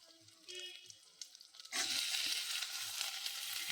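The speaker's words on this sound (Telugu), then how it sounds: "ఉల్లిగడ్డ వేసేద్దాం." Sliced onion is dropped into a hot pan already holding cumin and fresh coconut, sending up a sudden loud sizzle that then holds steady as a continuous frying hiss after a few faint stirring sounds.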